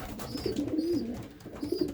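A racing pigeon coos inside its breeding loft, giving low, soft rolling coos in two phrases, close and moderately loud, with faint chirps above and quiet loft ambience.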